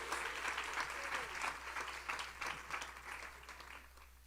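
Church congregation breaking into sustained applause during a live service, a dense, steady wash of many hands clapping that fades slightly toward the end, with faint voices underneath.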